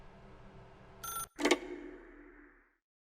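A telephone rings in The Stanley Parable video game, a short electronic ring followed by a second louder burst, close and clear, then fading to silence.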